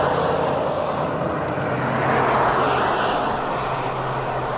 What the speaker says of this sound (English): A lot of car noise.